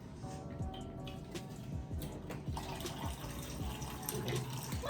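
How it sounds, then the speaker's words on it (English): Water pours steadily from a dispensing water machine, a continuous running-tap stream with faint clinks, close by, alone. "We got a water machine, y'all."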